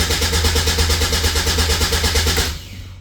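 A cold Caterham 7 620S engine cranks steadily with a fast, even pulsing rhythm for about two and a half seconds, fails to catch, and then stops, leaving only a faint, fading hiss.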